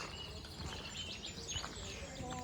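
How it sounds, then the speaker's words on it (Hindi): Faint bird chirps and tweets sound in the distance outdoors in a garden in England, scattered over a soft, steady background hush. "इधर तो जो चिड़ियों की और बर्ड्स की आवाज़ें आ रही हैं"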